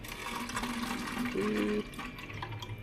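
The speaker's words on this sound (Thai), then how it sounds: "ลองกรอกน้ำดูหน่อย" Water running from a Philips AUT1211 under-sink filter tap into a bottle, a steady pouring hiss with a rising filling tone near the middle, close and fairly quiet.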